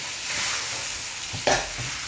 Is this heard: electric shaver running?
no